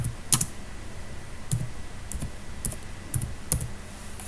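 A style name is typed on a computer keyboard in Microsoft Word, with sparse, close key clicks coming in irregular single and paired taps against a quiet room.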